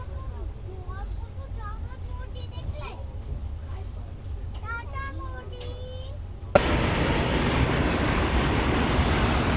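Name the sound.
train crossing the bridge over the Son river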